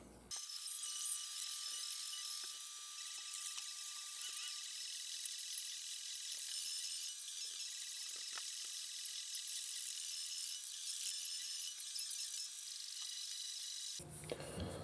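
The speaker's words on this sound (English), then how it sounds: "I'm going to finish sanding this down with the 120 here" Steady, harsh, high-pitched rasping of 120-grit sandpaper on a wooden stick slingshot runs without a break for about fourteen seconds, then cuts off abruptly.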